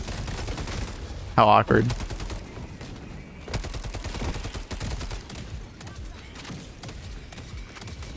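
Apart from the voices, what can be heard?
gunfire from an enemy shooting in a video game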